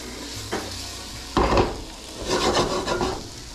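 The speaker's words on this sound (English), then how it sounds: "Put the butter in and spread the butter all over." Butter spread around a pan with a utensil, giving soft scraping and rubbing strokes over a faint sizzle, close and fairly quiet, with no talk.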